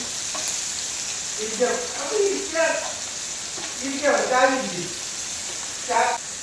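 Mackerel frying in hot oil with curry leaves and coriander powder, a steady bright sizzle throughout, with a voice speaking over it in several short bursts.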